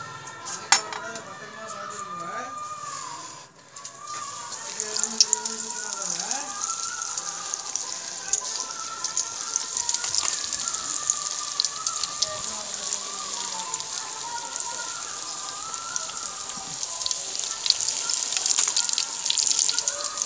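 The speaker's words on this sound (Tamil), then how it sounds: "நல்லா எண்ணெய் நல்லா ஹீட் ஆகிடுச்சு. நல்லா பொரியுது அந்த கேப்ஸி." Brinjal pieces coated KFC-style deep-frying in hot oil, a steady bright sizzle and crackle that keeps going throughout, with faint voices and light clinks of utensils underneath.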